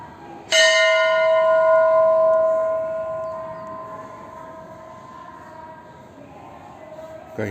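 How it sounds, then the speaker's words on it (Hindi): A temple bell is struck once, giving a loud, bright metallic ring that hangs on with a long, slowly fading hum over several seconds against a low background murmur. "कहीं सुकून से भर देती है ये मंदिर में घंटी की आवाज़।"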